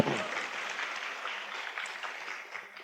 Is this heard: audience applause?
yes